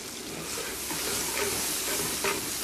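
Pickled chilies, garlic and chili bean paste sizzle and hiss in a hot wok with oil, stirred continuously, with steady frying crackle close up and no talking.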